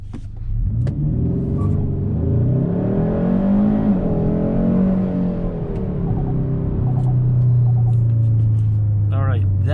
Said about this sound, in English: I'm gonna go ahead and accelerate one more time here, but I'm not gonna brake boost it